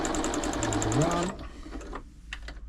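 A Janome Memorycraft 3000 sewing machine runs steadily for just over a second after a bottom-tension adjustment, its needle chattering in a fast even rhythm before the motor stops and a few faint handling clicks follow.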